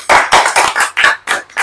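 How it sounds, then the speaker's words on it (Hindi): A crowd claps hands together in a church prayer gathering, a series of sharp, loud bursts in uneven rhythm close by, with no talking over it. "ताली भाई,"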